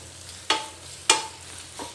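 Onion and garlic sauté gently in oil in a pan, with low steady sizzling broken by three scraping stirs of a utensil.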